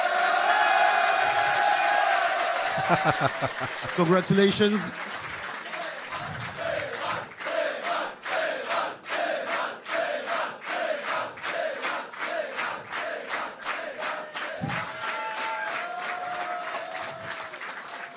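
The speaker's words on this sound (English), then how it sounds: "A big round of applause." Large StarCraft 2 esports event crowd applauding and cheering, a dense roar early with shouts, then steady rhythmic clapping in unison that carries on to the end, with a brief spoken word near the start.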